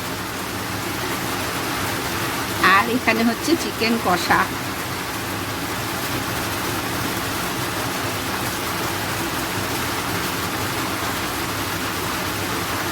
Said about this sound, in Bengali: বাইরে হচ্ছে ঝমঝমিয়ে বৃষ্টি